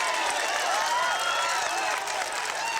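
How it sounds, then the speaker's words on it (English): Spectators at a 1990 Malvern Hills athletics high-jump event applaud and cheer after a British record attempt, a dense, steady wash of clapping and whoops filling the whole stretch without any clear speech. "The crowd goes wild."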